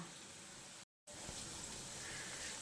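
Cauliflower pakoras fry in oil over low heat, giving a faint, steady, even sizzle that is briefly cut by a moment of total silence before it resumes.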